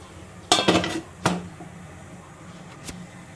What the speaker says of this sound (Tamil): இப்போ நம்ம மூடி வச்சிடறோம்.